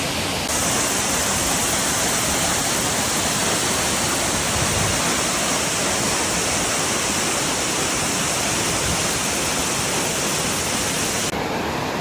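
A loud, steady roar of rushing water from a waterfall feeding the Fırtına stream near Ayder, Turkey, fills the scene without a break, close and constant, with no voices.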